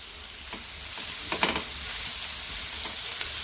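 Shredded chicken and other ingredients for crispy Chinese kebabs fry in a pan with a constant close hiss and sizzle, and a few soft stirring scrapes.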